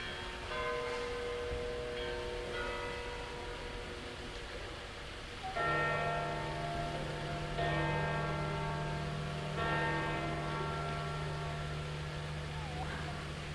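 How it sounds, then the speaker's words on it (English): Large church bells near St. Peter's Square at the Vatican toll and ring with long resonant overlapping tones, new strikes entering every few seconds, with faint background voices and traffic. "I'll let you look at the church while the bells ring."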